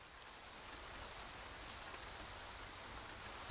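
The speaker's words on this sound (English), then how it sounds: "I hear the soft hiss of the rain falling outside." Soft rain from Tsukihime Remake falls outside in a steady, gentle hiss, quiet and even for a few seconds with no voices.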